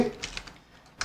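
A few light, quick keystrokes tap on a computer keyboard as a short command is entered, close and fairly quiet, with no talking.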